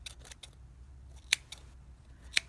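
Scissors snip through crochet yarn loops on a snowman amigurumi, a series of quick close cuts: several soft snips, then two sharp, distinct clicks spaced apart.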